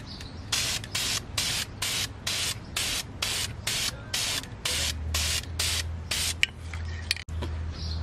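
Aerosol spray paint applied to car brake calipers in red on an Acura RSX, a rapid series of short hissing bursts in a steady rhythm, close and clear, with a low hum underneath.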